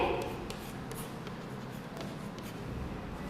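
A sentence is written on a board during a Hindi class, a quiet, steady scratching and rubbing of the pen or chalk close by, with faint room noise.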